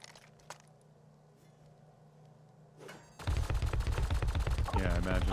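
Rapid gunfire at an automated turret in the survival game Rust, a dense burst of repeated loud shots that starts abruptly after a quiet stretch with a few faint clicks and carries on to the end.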